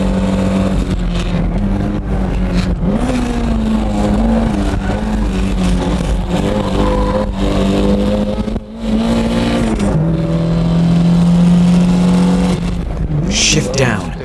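A Toyota car engine held at full throttle while drifting, a loud sustained drone with pitch rising and falling across the run, a brief dip midway, and a voice talking over it throughout.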